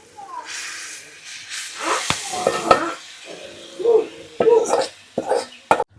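Dal simmering in a pot as a prepared mixture is tipped in and stirred: sizzling hiss and bursts of bubbling with scraping clinks of a spoon against the pot, moderately close, while someone talks over it.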